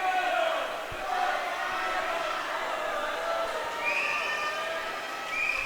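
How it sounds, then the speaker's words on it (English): Swimmers from both teams at an indoor college swim meet cheer on a teammate, a steady wash of crowd shouting and whooping echoing through the natatorium. "almost every single swimmer from both teams is currently watching and cheering on their teammate"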